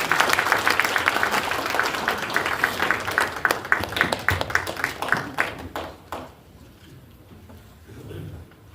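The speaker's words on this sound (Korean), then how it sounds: "큰 박수로 모시겠습니다" An indoor audience at a Jeju basic-society committee launch ceremony in a chamber of commerce hall gives warm, dense applause for about six seconds, then it thins and fades into quiet room noise.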